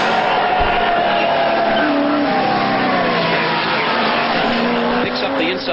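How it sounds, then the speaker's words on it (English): Peter Brock's race car at Bathurst on the last lap, a loud sustained engine roar with shifting pitch and faint tyre squeal, heard under a busy crowd and commentary noise. "Peter Brock is trying hard in this last lap."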